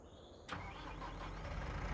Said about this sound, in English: We need to turn this tractor on.